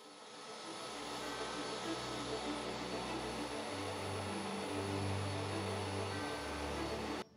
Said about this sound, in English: Now this is a little sander that I got off Amazon, and it's really good